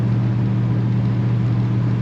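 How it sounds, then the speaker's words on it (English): A 1970 Buick Electra 225 convertible's V8 engine runs on the road with a steady low rumble and drone, close and constant for two seconds, with no voices present. "Buick V8 power in this car."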